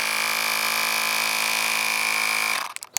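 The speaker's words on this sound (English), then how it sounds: "now instead of pumping manually, I've got this portable compressor. It's a bike compressor." A portable bike compressor runs steadily with a loud, even electric whine and buzz, pressurising a foam sprayer for wheel cleaning, then cuts off near the end, leaving a few faint clicks.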